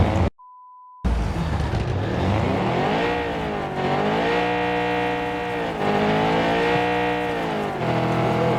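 A forklift engine in a video game starts and idles with a steady mechanical drone, rising and falling in pitch in repeated swells after a brief tone and a moment of silence at the start.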